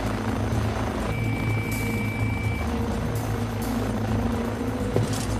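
A rescue helicopter's loud, steady rotor drone fills the whole stretch in a mountain setting, with a brief high tone sounding partway through.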